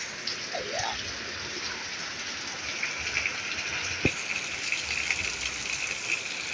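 Heavy rain pours down steadily as a dense, continuous hiss of drops on surfaces, with a brief sharp knock partway through and no talking.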